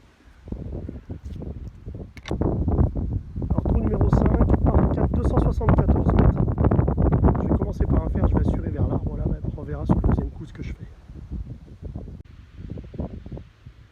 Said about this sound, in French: vent pleine face